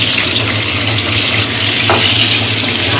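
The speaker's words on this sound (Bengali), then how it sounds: "আলুর দম করবো যার জন্য আলুগুলো ভেজে নিচ্ছি" Potatoes frying in oil for aloo dum give a steady, close, dense sizzle with faint stirring, running without pause and with no voices.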